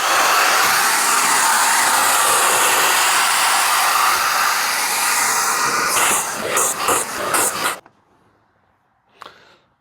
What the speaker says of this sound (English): we're just going to dry it with some heat